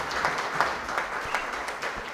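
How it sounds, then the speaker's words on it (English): Soft, steady audience applause at a nutrition awards ceremony, a diffuse wash of many hands clapping at moderate distance, fairly faint and even throughout with no talk over it. "Let's give him a better clap."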